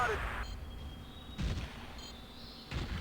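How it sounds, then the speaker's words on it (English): Artillery fire booms in a competitive video game match, several separate blasts: one fading at the start, then two more dull thumps spaced over a second apart against a low background murmur. "Artillery, your area."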